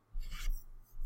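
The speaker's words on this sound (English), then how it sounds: "So now I'm going to draw another line that is 1 away." A pencil draws a line on paper for a drafting title block: one short, close scratchy stroke, followed by a quieter brief rub right after.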